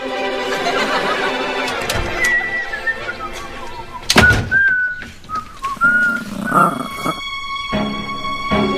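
A person whistles a wandering tune, with sliding notes and short gaps, close by and fairly clear, broken by a couple of sharp knocks.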